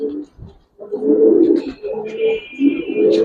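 A Giribaz pigeon hen coos in a run of low, throaty, rolling calls, close and fairly loud, with a faint high chirp or tweet near the end.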